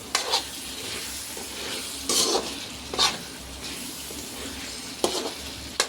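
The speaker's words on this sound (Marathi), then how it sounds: "पुरा मसाल्यामध्ये आपण मिक्स करून घ्यायचं" A spoon scrapes and stirs beans into sizzling masala in a pan, a few distinct strokes over a low steady fry, no voices.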